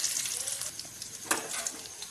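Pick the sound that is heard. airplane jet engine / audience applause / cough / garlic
garlic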